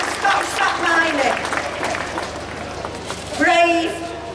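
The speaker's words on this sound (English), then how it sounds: "Come on, give them a clap." Applause from a crowd at a rally honouring Bridget Bell, steady clapping running throughout beneath a speaker's voice and cheering voices.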